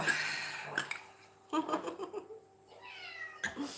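A cat meows from upstairs in a home, faint and somewhat distant, in a few drawn-out cries, with people talking and light kitchen noises in between.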